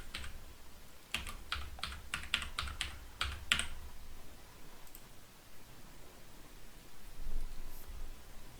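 About a dozen quick keyboard taps come in a brief burst as a password is typed at a computer during a network video recorder setup, faint over steady background hiss, followed by quiet.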